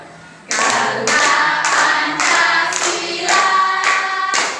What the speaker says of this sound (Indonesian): sambil tepuk tangan ya Mildus